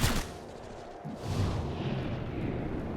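Gunfire in XCOM: Chimera Squad: a sharp opening shot followed by a second burst about a second later, trailing into a booming, rumbling tail that holds to the end, with no voices.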